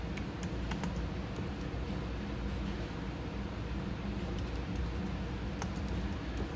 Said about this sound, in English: It's like I'm typing at the same time.